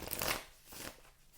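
Tarot cards riffle and slide together in a brief, soft shuffle, two quick papery bursts, close but quiet.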